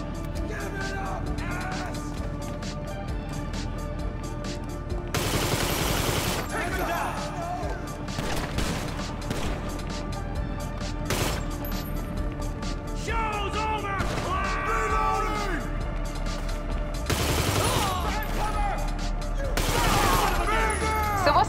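Video game gunfire crackles in bursts and volleys, some loud and close with crashing impacts, others fainter and further off, while people talk over it throughout.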